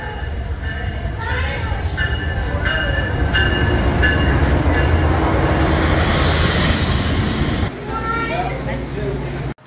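A passenger train pulls into a South Florida station serving cruise ports and airports, a loud steady rumble of rolling railcars with a high squealing tone, running continuously before dropping slightly near the end.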